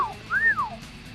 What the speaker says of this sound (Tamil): என்னடா விசில் அடிக்கிறேன்